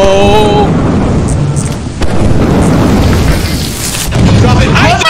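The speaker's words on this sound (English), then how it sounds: "Survive the lightning storm." Video-game thunderstorm with constant rain and loud thunder rumbling, booming sharply around the two-second mark, with a voice and game sounds over the storm.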